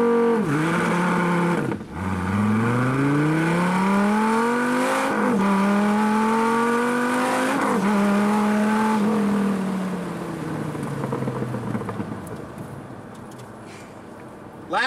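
An SRT Viper or AMG GT sports car accelerates hard through several gears, its engine note climbing in pitch, dropping at each shift and climbing again, loud and close before easing off near the end.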